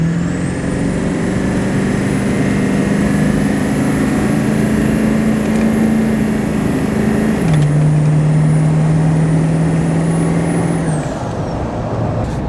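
A Ford 7.3 Powerstroke diesel truck, running an extreme performance chip tune, drives along with a loud, steady engine drone and a high whine. The pitch steps down once midway through, then the sound eases off near the end.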